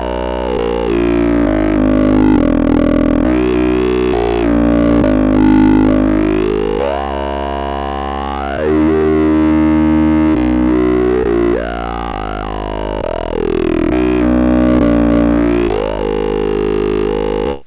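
An EDM vocal synthesizer tone with its vowel formant knob swept back and forth, a loud distorted buzzing voice-like sound whose vowel colour keeps sliding darker and brighter over roughly eighteen seconds, with no talking.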